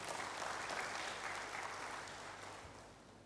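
A church congregation applauds during a sermon, a broad, even wash of clapping heard from a distance that slowly tapers off.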